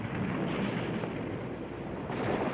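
A gunpowder-filled clay pot bomb explodes in an old color film, giving a dense, continuous roaring blast that rumbles at steady loudness for the whole stretch.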